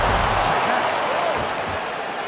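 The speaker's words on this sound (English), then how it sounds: "The chants continue." An arena crowd at an MMA bout roars and chants as a steady, loud wash of noise while a commentator talks over it.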